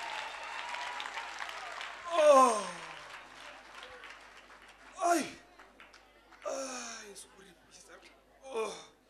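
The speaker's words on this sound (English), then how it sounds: "Clap your hands for yourself." An audience at a church prayer service claps in several short bursts, each swelling for about a second between quieter stretches with crowd murmur and voices underneath.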